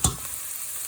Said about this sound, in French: vous allez faire roussir votre oignon et votre ail